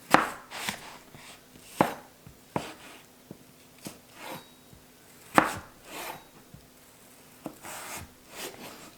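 A very sharp knife slicing apples for a galette, irregular crisp cuts and soft scraping strokes against a board, close and fairly quiet, with no talk.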